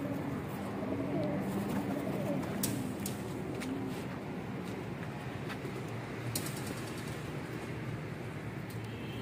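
Pigeons coo softly on a rooftop, a steady low murmur running under a constant background hum with faint clicks and rustles throughout.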